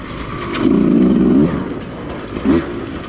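A 2020 Beta 200rr dirt bike is ridden, its two-stroke engine droning and rising in a loud sustained rev, then easing off before a brief second burst of throttle, with wind noise throughout.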